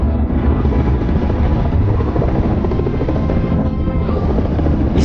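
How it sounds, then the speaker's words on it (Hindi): A rescue helicopter passes overhead in a movie, its rotor thudding loud and steady throughout with a dense, continuous engine roar and no voices. "उसी समय बचाव हेलीकॉप्टर भी उसके सिर के ऊपर से गुजरा"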